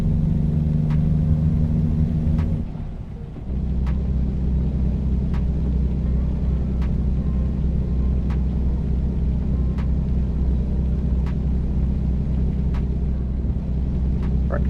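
Steady deep rumble of a heavy truck cruising slowly through rain in American Truck Simulator, a continuous engine drone with faint rhythmic ticks, briefly dipping once before holding level.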